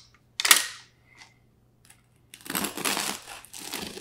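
A knife cutting into a fully cooled, crusty, 24-hour cold-proofed bread loaf: a sharp crackling crunch, a short pause, then a longer run of crunchy, crinkling cuts, close and alone.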